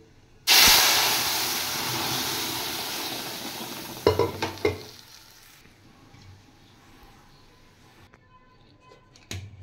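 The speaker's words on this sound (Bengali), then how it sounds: "এবার আমি ডালটা ছেড়ে দেব।" Lentils (dal) dropped into hot oil with mustard and nigella seeds erupt in a loud sudden sizzle and hiss, then settle to a softer frying crackle with a few stirring knocks and clatters.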